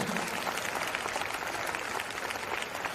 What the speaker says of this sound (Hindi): एक बार जोरदार ताली होनी चाहिए सर